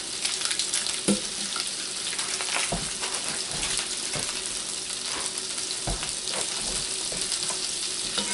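Butter sizzling as it glazes a pan that holds meat drippings, a loud, steady frying hiss broken by several distinct clanks of a utensil against the pan.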